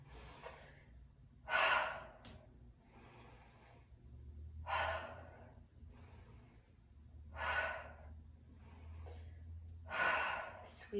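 Rhythmic breathing during a prenatal pilates exercise, with four loud, breathy exhales or gasps spaced about three seconds apart, over a low steady background hum.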